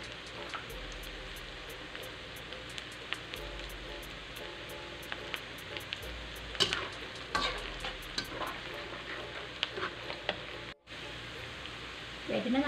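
Tomatoes fry in a pan with golden garlic, onion and ginger for fermented shrimp with rice, a quiet steady sizzle with frequent clicks of a utensil stirring, close by with no talk.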